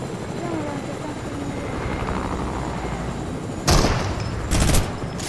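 A helicopter in a multiplayer shooter video game drones steadily in the background, joined near the end by two short, loud bursts of gunfire.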